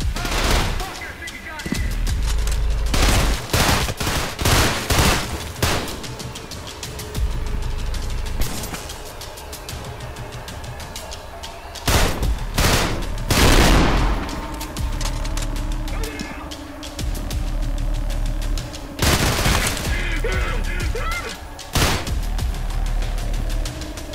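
Rapid bursts of gunfire in the Trepang2 first-person shooter, loud volleys separated by brief lulls across a big warehouse setting, with a voice talking between the shots.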